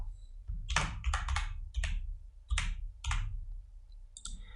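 Computer keyboard keys clatter in short, close bursts of rapid clicks, separated by brief pauses, with a low hum underneath.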